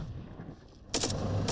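Motorized riflemen fire on infantry and armored-vehicle targets at about 250 metres, heard as a quiet rumbling lead-in followed by a sudden loud burst of gunfire with a second sharp report near the end.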